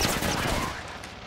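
Rapid gunfire bursts in the Apex Legends video game, a dense, loud volley of shots crackling steadily through the whole brief moment with no clear gaps.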